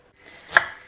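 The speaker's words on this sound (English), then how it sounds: "Just taking 1 red onion and just roughly chopping it up" A knife makes a single sharp chop through a red onion on a board, one close, crisp cut after a brief quiet.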